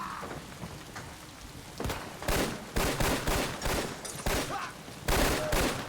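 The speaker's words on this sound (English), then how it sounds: "There's a battle taking place in here. It's not just one side." Gunfire crackles through a battle between two sides in Fallout 4, with repeated loud bursts and volleys coming close together over a steady noisy bed.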